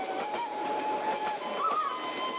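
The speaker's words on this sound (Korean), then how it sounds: "기차는 물의 도시 닌빈을 향해 달린다." A train travelling through Vietnam toward Ninh Binh runs on its rails with a steady rolling rumble and a faint, thin squeal, heard from onboard, continuous and moderately quiet.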